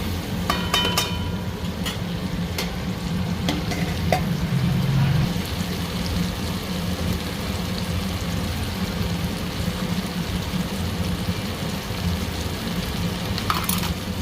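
Tomatoes and salt fry in a pan with a steady, soft sizzling crackle that runs unbroken throughout, with occasional clinks of a utensil near the start and end.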